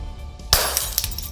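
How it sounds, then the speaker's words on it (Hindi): A stone smashes the driver's-side window glass of a Bolero, giving one sharp, loud crash followed by a few scattered tinkling clinks of falling shards, close by. "दोनों ने बोलेरो की ड्राइविंग सीट वाला शीशा पत्थर मारकर तोड़ दिया।"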